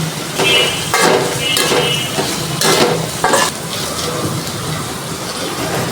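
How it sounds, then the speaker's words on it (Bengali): Shrimp, onion and green chili fry in a pan while being stirred, with sizzling under repeated scraping strokes of a spatula against the metal. "এখন দিয়ে দিলাম পেঁয়াজ, এখন দিয়ে দিলাম কাঁচামরিচ, একটু নেড়ে চেড়ে দেবো।"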